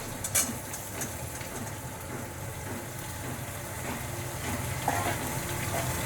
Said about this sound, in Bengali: সবজিটা এখন আমি ভেজে নিই